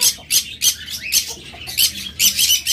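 Lovebirds and cockatiels squawk in a bird shop, a rapid series of sharp, loud calls in irregular bursts from birds close by, with no voices.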